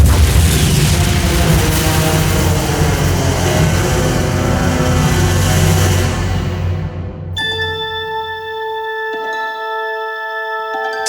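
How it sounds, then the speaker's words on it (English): A heavy, rumbling explosion effect for a blast at an outpost in a Star Trek New Voyages fan episode roars loudly for about seven seconds, then gives way to sustained electronic tones and hums. "Unknown explosion at Lappa Outpost."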